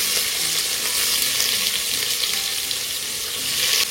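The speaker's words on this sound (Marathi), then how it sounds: "त्यानंतर यात मी टाकणार आहे कांदा" Chopped onion hits a hot pan with a paste of asafoetida, ginger, garlic and green chili for street-style ragda patties, giving a loud, steady, close sizzle that runs without break and swells slightly at the end.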